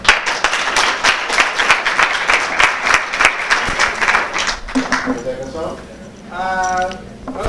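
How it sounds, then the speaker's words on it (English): Crowd applause at a hackathon's student project demo and judging event, dense clapping filling the first five seconds, then fading as speech and a brief tonal sound take over. "One more round of applause for Tizo."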